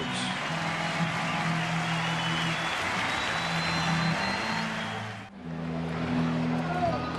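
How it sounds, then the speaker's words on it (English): Crowd at a Mets baseball game in 1999 applauding as the pitcher leaves the mound, a steady wash of clapping and cheering sustained for several seconds, with a brief dip before continuing. "He'll get a nice hand from the Mets crowd as he leaves."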